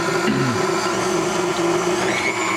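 A stand mixer with a splatter guard runs steadily on medium, whirring continuously through cake batter with a loud, even motor drone and no pauses.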